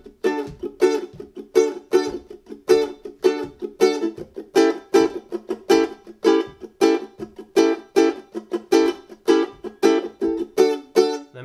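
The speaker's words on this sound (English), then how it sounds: "Start to bring some left hand muting into this and a steady stream of strums" Steady stream of ukulele strums using left-hand muting on the Dreidel Song, each chord cut short into a percussive, choppy chunk; close and even in rhythm, with no voice.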